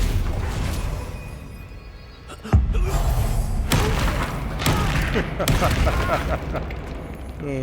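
Spell blasts and impacts in a Hogwarts Legacy battle, a sharp heavy boom near the middle followed by repeated thuds and crackling hits over steady combat noise, with voices calling out through it.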